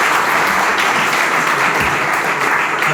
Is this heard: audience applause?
yes